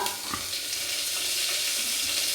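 Curry leaves hit hot oil in a pan for a coconut-milk chicken curry, giving a steady, loud crackling sizzle that fills the whole moment with no talk.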